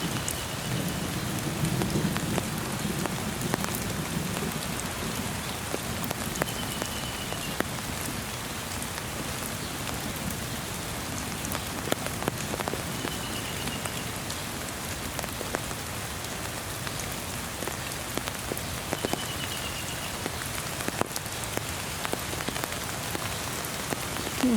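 Steady rain pours down on a wooded spot at Saddler's Woods where goats are sheltering, with a constant wash of drops and the odd distant thunder rumble under it, no talking.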